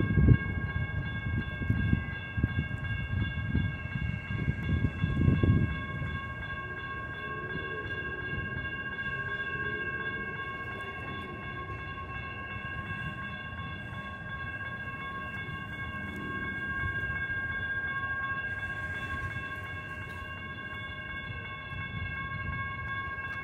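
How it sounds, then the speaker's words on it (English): An outbound Sacramento blue line light rail train passes the 19th Street railroad crossing, with a loud rumbling pass early on that eases into a quieter rolling sound under steady ringing crossing tones. "After the inbound train, here comes the outbound blue line train."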